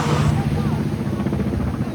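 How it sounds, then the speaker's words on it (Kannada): A helicopter flies over a forested beach in Goa, its steady, low rotor rumble heard continuously, with voices talking over it. "ಹೆಲಿಕಾಪ್ಟರ್ ನೋಡಿ, ಹೆಲಿಕಾಪ್ಟರ್ ಅವ್ರು ವ್ಯೂ ಮಾಡಕ್ ಬಂದವ್ರೆ."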